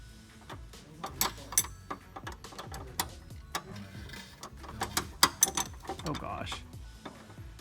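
A 17 mm wrench snugs a stainless steel brake line fitting: a run of irregular metallic clicks and ratcheting taps, close and fairly quiet, some sharper than others.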